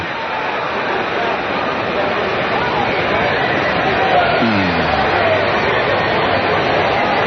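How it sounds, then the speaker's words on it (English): Crowd noise at a minor league baseball game, Salt Lake Stingers at Portland Beavers, with a dense, steady murmur of chatter across the stands, continuous and moderately loud and no clear single voice. "I'm just letting the crowd talk for a minute"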